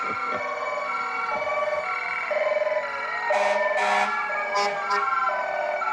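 A fire engine siren in an Independence Day parade wails continuously, rising and falling in pitch with short air-horn blasts, loud and close.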